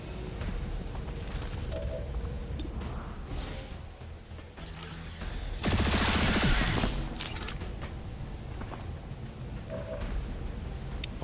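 A pistol firing in XCOM 2, heard as a sharp burst of shots about midway through, standing out over steady game ambience and mechanical clatter.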